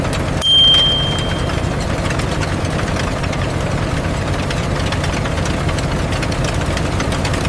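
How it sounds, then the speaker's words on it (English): A large cotton harvester that picks six rows at once, with rotating metal spindles, runs as a loud, steady engine drone with a rough knocking rumble and a brief tonal whine near the start. "To handle this immense volume, cotton harvesters are indispensable. The machine can process 6 rows at the same time."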